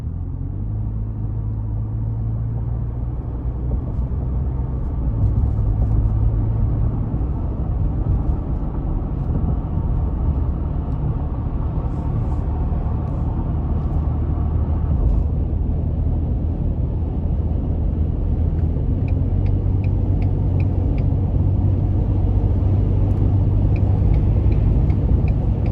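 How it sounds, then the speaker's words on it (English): A 2021 Ford Expedition Max XLT with the 3.5 engine accelerates gently onto an interstate, heard from inside the cabin as a loud, steady low engine and road rumble that swells slightly and shifts tone partway through. "So we're gonna merge on the interstate now and just see how well it accelerates under minimal throttle."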